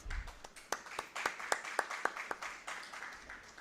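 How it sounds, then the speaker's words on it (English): Scattered audience clapping welcoming a session chair at an international spectroscopy seminar, with a handful of distinct, fairly close claps standing out in a rough rhythm over thinner background applause. "Please join me in welcoming Dr. De with a hearty round of applause."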